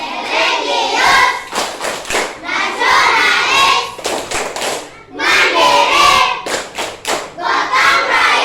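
A school class performs the rhythmic PPK clapping chant during a lesson: loud bursts of group claps and thumps alternate with children chanting words together in unison, in an energetic back-and-forth pattern.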